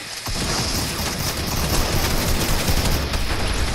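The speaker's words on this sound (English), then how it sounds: "I'll shoot him" Rapid, continuous gunfire in a video game, a loud sustained fusillade of shots packed closely together for several seconds with no voices over it.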